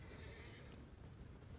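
A horse in the Elden Ring video game neighs amid a dense, steady wash of game noise, its whinny blended into the loud ambient mix rather than standing clearly alone.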